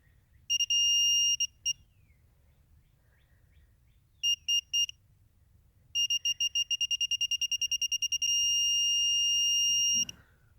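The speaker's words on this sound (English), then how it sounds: "we get that alarm as we hit 140" Piercing electronic beeps from a Vanpo digital torque wrench reaching its 140 target torque: a few short bursts, then a fast run of pulses merging into one sustained tone before it stops, over faint background hum.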